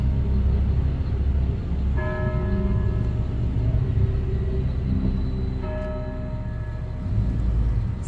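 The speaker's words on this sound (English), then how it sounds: "I hear a bell tower!" Two distant church bell tower strikes about four seconds apart, in historic Paducah, Kentucky, each ringing out and fading over a constant low rumble of traffic.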